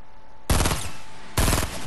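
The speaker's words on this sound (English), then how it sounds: "That's a rocket launcher." A rocket launcher in Fortnite's 50 v 50 mode fires two loud, close blasts about a second apart, each a sharp hit followed by a short roar.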